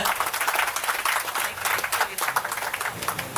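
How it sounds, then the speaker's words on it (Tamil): Enthusiastic applause from an audience welcoming a guest onto the stage at an event in Coimbatore, steady broadband clapping throughout at moderate loudness. "நல்ல ஒரு உற்சாகமான ஒரு கைத்தட்டல் கொடுக்கலாங்களா அவருக்காக?"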